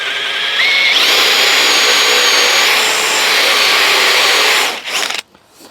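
A Forstber bit bores into handrail stock with a loud, steady high-pitched whine that holds for about four and a half seconds, then trails off as the drill stops.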